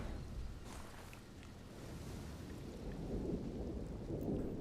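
Rain falls steadily in an Elden Ring game scene while low thunder rumbles swell and fade beneath it, the storm growing heavier toward the end with no talk over it.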